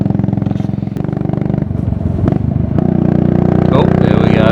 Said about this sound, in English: when you consider it's a 1959 bike